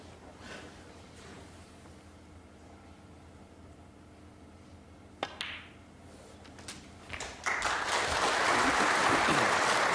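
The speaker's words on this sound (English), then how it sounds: "Knowledgeable applause" A snooker crowd at the 2002 World Championship semi-final between Hendry and O'Sullivan is hushed, then a sharp click is heard, and applause swells up and stays loud through the final two seconds.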